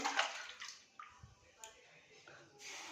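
Water splashing and trickling into a pot or container for cooking lentils, a brief close burst of pouring that tapers into softer drips and sloshes, with a voice talking over part of it.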